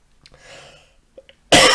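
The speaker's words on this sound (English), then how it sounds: "It's gonna be a rather unpleasant one if I keep coughing the whole time." A man coughing during a live-streamed talk, brief faint throat sounds followed by one sharp, loud cough at the end.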